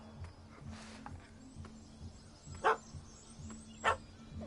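Two short, sharp dog barks in The Witcher 3 stand out over a low game ambience. They come a little over a second apart and sound moderately close.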